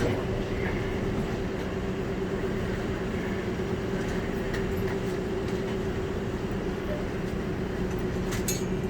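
Denver International Airport's automated terminal-to-concourse train runs with a steady loud rumble and hum, wheels rolling beneath the carriage, while passengers talk and onboard announcements play over the noise.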